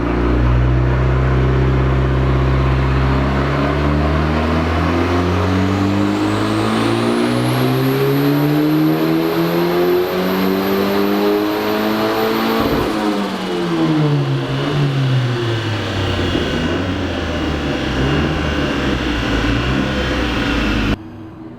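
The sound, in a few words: BMW M46 turbo engine revving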